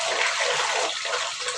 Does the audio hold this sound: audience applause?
no